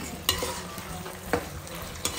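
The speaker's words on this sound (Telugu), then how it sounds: "సో సాస్ మొత్తం చికెన్ లో కలుపుకునే వరకు మనం కలుపుకుంటాము." Chilli chicken being stirred with sauce in a frying pan, street-food style: soft scraping stirs with a few sharper utensil clacks against the pan over a low continuous sizzle, close and fairly quiet, no talk.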